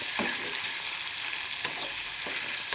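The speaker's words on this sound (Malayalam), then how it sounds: "ചെമ്മീനൊക്കെ എണ്ണയിൽ ഇട്ട് കൊടുത്തിട്ടുണ്ട്" Prawns frying in oil in a pan, a steady bright sizzle with a few soft stirring strokes, close and fairly even throughout.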